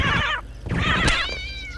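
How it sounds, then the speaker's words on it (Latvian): A cat meows twice in quick succession in the video game Postal 2, then a longer drawn-out meow follows, close and fairly loud, with a faint tonal background hum. "Te melns kaķis aizgāja."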